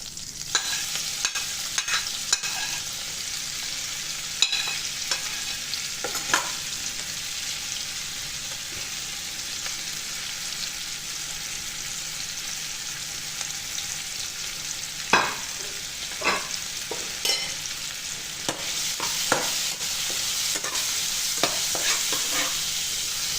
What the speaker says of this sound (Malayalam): ആ വറുത്തെടുത്ത വെളിച്ചെണ്ണയിൽ തന്നെ നമുക്ക് സബോളയും